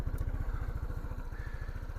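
A Lifan KPV150 motorcycle engine on a 2022 model just started, chugging at idle with a quick, even, close-up exhaust pulse and a light mechanical clatter.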